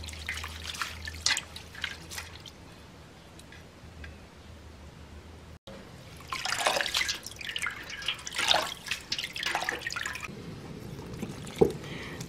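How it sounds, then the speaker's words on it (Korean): Agar agar seaweed is rinsed and picked clean by hand in water, with soft drips, splashes and sloshing bursts close by, quiet stretches between them and no talk. "이리 씻으면서 이거 이물질 같은 거 이런 거는 떼주고요"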